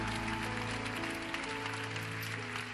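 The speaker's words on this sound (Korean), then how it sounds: "충만의 박수 올려드리겠습니다." Congregation applause at a Korean youth worship service, a sustained wash of clapping blended with a steady held organ or keyboard chord underneath, even in loudness throughout.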